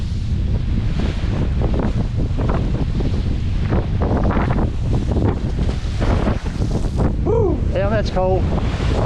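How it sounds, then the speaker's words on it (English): Strong wind buffets the microphone on the shore of Lake Huron in Michigan's Thumb, a constant loud roar mixed with surf, while a man exclaims briefly near the end. "The wind gets just right."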